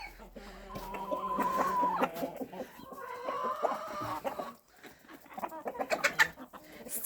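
Several Australorp chickens cluck and chatter close by in uneven bursts, with a short lull partway through before the clucking picks up again.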